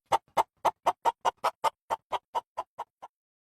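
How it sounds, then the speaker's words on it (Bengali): A chicken gives a quick run of about thirteen short, evenly spaced clucks, close and clear with no other sound, the pulses slowing slightly and fading toward the end. "এই যে ভাই মুরগি।"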